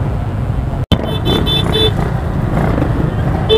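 A motorcycle tricycle engine passes close in busy road traffic near the PITX terminal, with short horn toots and a steady rumble of other vehicles.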